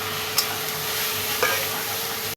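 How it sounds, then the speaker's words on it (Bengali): Spices fry with tomato, green chili and salt in a pan, a dense close sizzle with a couple of light stirring clicks, steady throughout and ending abruptly. "ঝিঙের সাথে আলুটা কষে একটু ঢেকে দেবো"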